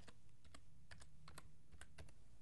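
Keys on a computer keyboard are typed in a quick, uneven run of sharp clicks, fairly close and steady, with no voices.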